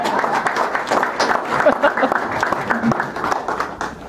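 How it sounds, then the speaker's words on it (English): Audience clapping for a youth club president at a Rotary service event, a dense burst of applause mixed with crowd noise and some talk underneath. "So a round of applause for the president."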